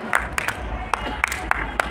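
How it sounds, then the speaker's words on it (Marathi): An audience at a Marathi poetry gathering claps as a guest is welcomed. Sparse, sharp claps stand out against a crowd murmur and a speaking voice on a public address system. "कृपया टाळ्या होऊन जाऊ द्या."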